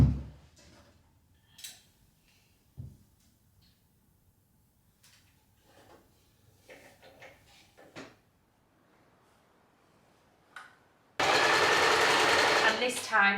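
Sewing machine stitching a seam to join two skirt panels, preceded by scattered quiet handling knocks and clicks, then a loud, steady, fast whirring run of stitching near the end.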